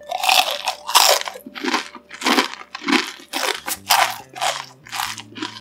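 Crunchy fried chicken bitten and chewed close to the microphone in a Korean ASMR mukbang, a steady series of about ten loud, crisp crunches in a regular rhythm with soft low background tones.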